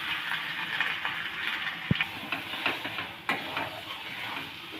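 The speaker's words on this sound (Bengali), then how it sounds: "সমস্ত উপকরণগুলোর সাথে ছোলার ডালটা খুব ভালোভাবে ভেজে নেওয়া হবে" Chana dal fries with salt and a ground spice paste in a pan, a continuous close hiss and sizzle marked by a few soft scrapes and taps of the stirring utensil, no speech.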